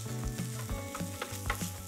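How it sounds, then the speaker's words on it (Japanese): Fried rice sizzling on a hot plate with a Korean-style yakiniku sauce, stirred with a steady rhythmic scraping at close range while the sizzle runs continuously underneath. "こうなったら混ぜていきます。"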